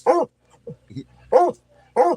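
A dog barks at a curtain indoors, three loud close barks spaced apart with small whimpering yips between them.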